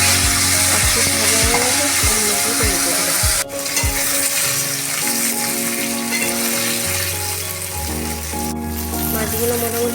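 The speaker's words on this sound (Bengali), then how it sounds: "লাল লাল করে ভেজে নিলাম এবার তুলে নেব বাইরে" Potato and pointed gourd pieces frying in hot oil: a loud, steady sizzle, with several spatula knocks against the pan at first and a humming tonal background throughout.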